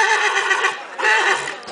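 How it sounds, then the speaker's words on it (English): A Dutch horse at an equestrian show whinnies loudly and close, two drawn-out neighs in a row. "So we take one last look at these beautiful horses"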